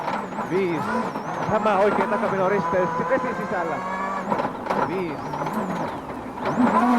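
A World Rally Championship car driven by Harri Rovanperä charges through muddy outback stages at Rally Australia 2003. Its engine revs rise and fall sharply between gear changes while a commentator talks over it.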